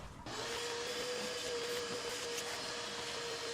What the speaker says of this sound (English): first we're just gonna vacuum it